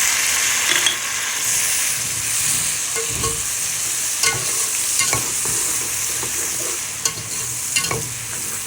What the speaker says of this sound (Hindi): अब मैं डालूँगी इसके अंदर लहसुन अदरक का पेस्ट जो मैंने रखा था 2 चम्मच।